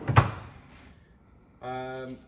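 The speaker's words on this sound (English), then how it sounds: "they just slide in and out really nice, like that" A pantry drawer on ball bearing runners slides shut with a short thud, then a brief quiet, followed by a smooth rolling slide lasting about half a second.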